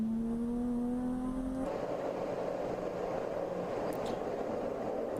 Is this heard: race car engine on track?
yes